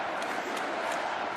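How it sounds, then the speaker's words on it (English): A stadium crowd at a Commonwealth Games rugby sevens match between Australia and Uganda roars in a steady, distant wash of cheering, with a few brief swells rising out of the noise. "Listen to this crowd."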